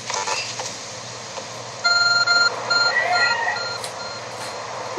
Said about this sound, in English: Oh, there's a glowing, beeping object over there.